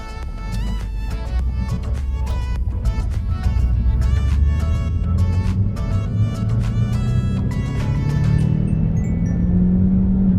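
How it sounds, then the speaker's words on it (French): Inside the cabin of a Ford Focus with a naturally aspirated engine, the motor drones loudly and climbs steadily in pitch under acceleration. A rapid ticking patters over it for most of the stretch, and no one speaks. "on entend le moteur gueuler dans l'habitacle"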